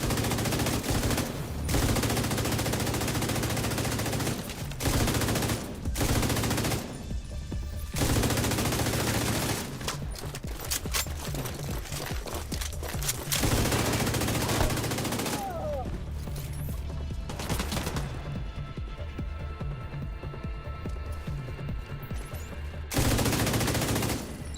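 Dense, sustained gunfire from The Division 2, volleys of automatic shots in a dark combat zone, loud and near with brief pauses between bursts, continuing for the whole stretch.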